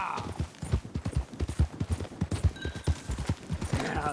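A filly gallops into Blackwater in Red Dead Redemption 2, her hooves beating a fast, steady, close clip-clop throughout, with a faint whinny-like tone near the end.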